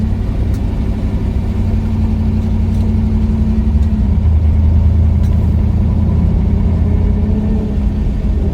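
A 1959 Chevy with a three-on-the-tree column shifter hums along in first gear, its engine giving a loud, steady low rumble heard from inside the car, with no voices.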